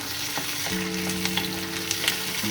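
Chopped medium onion and tomato fry in a pan with a steady, fairly close sizzle, broken by a few soft scrapes from stirring, and no voices.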